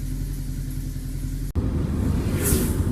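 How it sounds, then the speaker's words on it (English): A Subaru EA82T turbo car running Megasquirt cruising at 60 km/h on even throttle, a steady low engine rumble with road noise, loud and continuous, with a sharp cut midway and rougher drone after. "And this is cruising along at 60 k's just with an even throttle"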